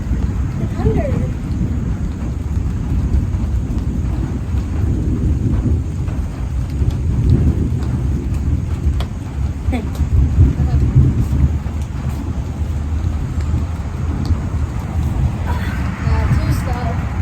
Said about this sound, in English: I saw the lightning and I hear the thunder.